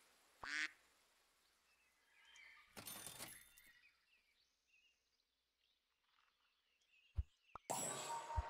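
A level 3 duck in the pet-battling game Super Auto Pets gives a short, sharp cartoon quack, followed later by a few more brief game blips and bursts against quiet background music.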